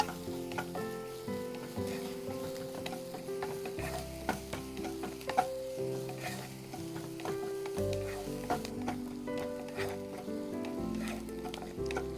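Chopped onions fry in a pan while being stirred for paneer till bahar, a continuous sizzle broken by scraping spoon strokes and clinks, close and moderately loud with no speech.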